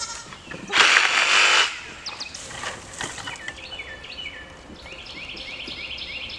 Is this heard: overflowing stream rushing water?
no